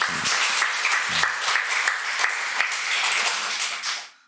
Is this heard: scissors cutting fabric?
no